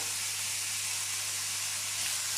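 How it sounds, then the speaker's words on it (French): Leeks and bacon lardons fry in a pan for a leek tart, giving a soft, steady sizzle and hiss throughout, close and alone with no talk. "Là, je fais revenir tout ça. Les lardons commencent à prendre de la couleur"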